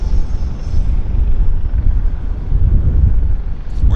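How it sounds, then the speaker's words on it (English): A Delta airliner taxis at Vancouver YVR airport, its engines giving a loud, steady low rumble mixed with wind buffeting on the microphone, and no voices heard. "It's going to taxi into the frame right about now."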